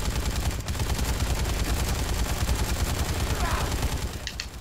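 Assault rifle gunfire in the Dead Rising 3 video game, rapid, continuous automatic bursts rattling steadily for over four seconds, loud and close, with game sounds mixed in.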